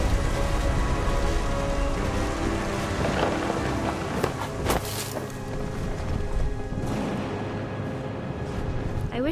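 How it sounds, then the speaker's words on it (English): Heavy rain pours steadily in What Remains of Edith Finch, a dense continuous wash with occasional sharper crackles and rumbles, loud and close, with no talking. "The rain came down in buckets then"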